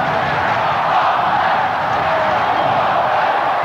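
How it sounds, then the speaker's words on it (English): A large rugby league crowd roars steadily at a 1992 Canberra versus Auckland match, urging Auckland on, as a dense, loud wall of cheering that holds throughout. "the crowd urging Auckland on here"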